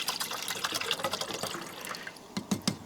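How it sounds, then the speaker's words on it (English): Water is poured from a 16-ounce plastic bottle into a pot outdoors, splashing and gurgling unevenly in close, choppy bursts that thin out, then return in a few heavier glugs. "Pour me some water in here."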